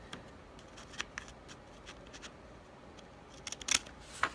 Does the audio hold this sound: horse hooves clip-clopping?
no